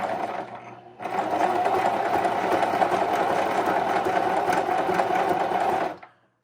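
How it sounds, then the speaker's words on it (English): A sewing machine stitches scrap fabric for a junk journal cluster embellishment, a steady close whirring run of about five seconds that starts abruptly and stops near the end. "So we're just gonna sew this one"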